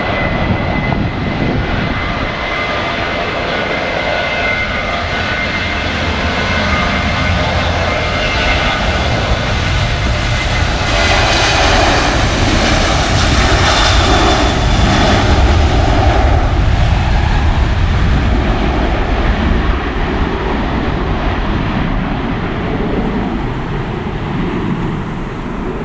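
A fixed-wing airliner taxis and takes off at Manchester Airport, its engines giving a loud, continuous roar that swells toward the middle and holds steady throughout, heard from nearby with no voices.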